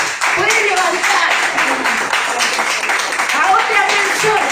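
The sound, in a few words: congregation applauding in church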